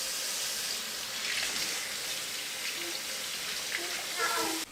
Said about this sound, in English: Here I got a bunch that I rinse under water.